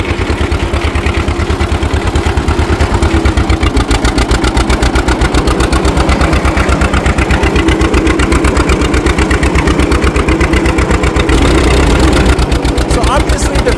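A 1940 John Deere BO tractor pulling a plow in second gear, its engine thumping in a fast, steady, even rhythm, loud and close for the whole stretch with no talking over it.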